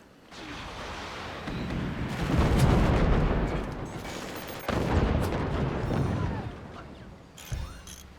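20mm cannons firing in the strategy video game Forts make a dense, continuous barrage of rapid shots mixed with booming explosions. The noise stays loud for several seconds, surges and eases, then breaks into scattered bursts.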